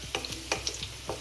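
Chicken pepper dry masala frying in a pan, a spoon scraping and clinking in a few quick strokes over a steady soft sizzle, close up with no voices.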